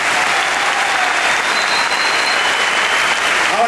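Loud, sustained applause from a large audience at a tango world championship tribute, a thick, steady roar of clapping filling the whole stretch with a faint tone running beneath.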